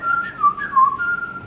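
A person whistles a short imitation of a baby bird's tune sitting in a tree, a clear wavering melodic line of a few rising and falling notes, close and alone without talk.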